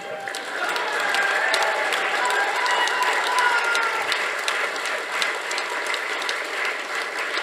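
Audience applause at a film event: a dense, continuous crackle of many hands clapping that holds steady and fairly loud for the whole stretch, with no voices standing out.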